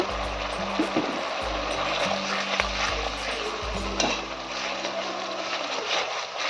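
Spice masala with Kashmiri chilli and a splash of water frying for a soybean dish, a continuous sizzle with scraping stirs in the pan and a low hum underneath.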